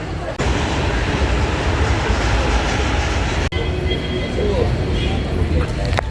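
A Kolkata Metro train rumbles steadily toward Kalighat with broadband rail noise, a brief drop near the middle, then continues with faint squeals and a distant voice.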